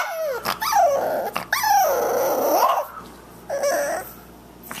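A female puppy growls and lets out drawn-out, rising howling whines, close by, in several bursts with short pauses between them.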